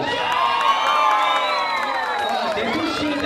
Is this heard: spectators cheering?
yes